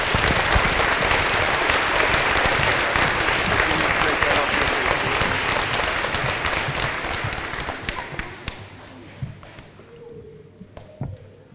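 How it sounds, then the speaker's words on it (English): Audience at an elementary school Veterans Day assembly gives a sustained round of applause for the local American Legion, loud and dense at first, then thinning to scattered claps toward the end. "Big round of applause for our local Legion."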